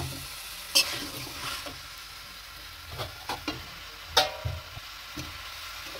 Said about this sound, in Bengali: এর মধ্যে আমি কেটে রাখা পেঁপে এবং গোটা পেঁয়াজ দিয়ে দিচ্ছি, দিয়ে এটাকে ভালো করে ভেজে